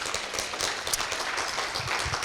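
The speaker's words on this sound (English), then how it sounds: "How about a big round of applause?" A crowd at a blockchain meetup inside a historic building in Warsaw breaks into steady applause, with dense overlapping claps sustained evenly throughout and no clear speech on top.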